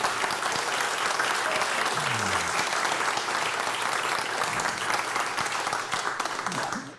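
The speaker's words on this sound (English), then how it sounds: "That's a big round of applause for Tim." An audience claps loudly and steadily after a talk by Tim O'Reilly, a dense wash of applause that carries on throughout before tapering slightly at the end.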